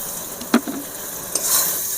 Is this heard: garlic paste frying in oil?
yes